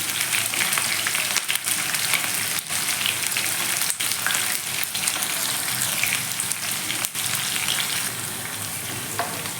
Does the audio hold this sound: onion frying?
yes